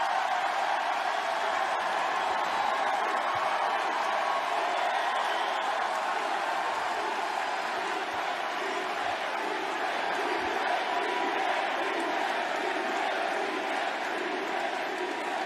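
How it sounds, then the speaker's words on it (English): Large crowd at a pro wrestling match, a dense continuous roar of many voices chanting and shouting together, steady and loud throughout with no single voice standing out. "the crowd started chanting, "He's gay!" repeatedly at a match"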